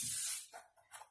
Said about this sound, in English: I'm going to spray my pan with some vegetable spray.